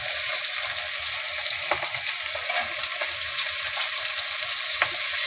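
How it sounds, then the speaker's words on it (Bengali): Chopped beans and carrots sizzle steadily in hot oil for egg chow mein, a continuous close frying hiss with occasional soft stirring scrapes and no voices. "তারপরে দিয়ে দেবো এই যে গাজর কুচি।"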